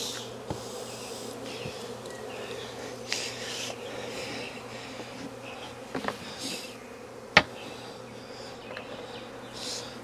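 Honey bees from a double swarm buzz in a steady, dense drone close by, broken by a few sharp clicks and taps, with no voices.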